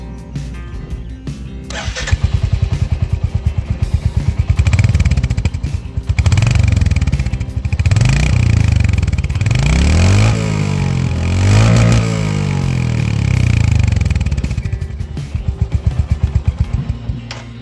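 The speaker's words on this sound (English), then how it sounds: "This exhaust system sounds amazing." Motorcycle exhaust system roaring as the engine starts and revs repeatedly, loud and close, with rising and falling throttle blips over a steady idle.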